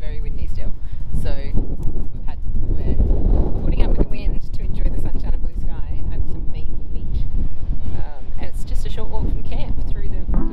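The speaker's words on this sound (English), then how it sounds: "However, it is very windy still." Strong wind blows at a beach between Cape Le Grand and Lucky Bay, Western Australia, with loud low buffeting rumble on the microphone beneath a person talking throughout.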